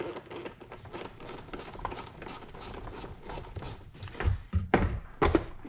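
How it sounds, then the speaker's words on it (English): Ratcheting clicks and metallic mechanical clatter while a hose clamp is worked off a 1999 Toyota Camry air intake tube, close up, continuous, ending in a few louder knocks and clunks. "to get this hose off of here, we're gonna get this other clamp here off the bottom"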